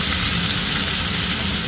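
Onions dropped into hot oil for crab malai curry, sizzling loudly and evenly with a steady close-up hiss throughout.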